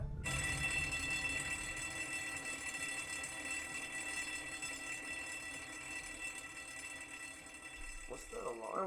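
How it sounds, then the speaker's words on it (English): An alarm rings in the video game The Raven Remastered, a continuous bright tone that holds for several seconds at a low level with a faint voice underneath, ending in a brief rising sound. "What's that alarm going off, man?"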